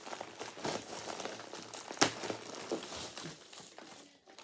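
Adhesive tape being peeled and tugged off a package, soft crinkling and rustling with a sharp tearing snap midway, close and quiet.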